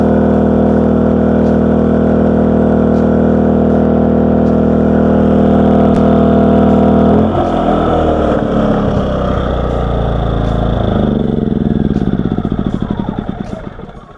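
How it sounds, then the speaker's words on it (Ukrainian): An inverter generator running under roughly a 1.5 kW load gives a loud, steady engine drone with a strong hum, then its pitch and texture shift as the engine speed changes before the sound tapers toward the end. "І ще генератор дуже тихо працює в порівнянні з іншими."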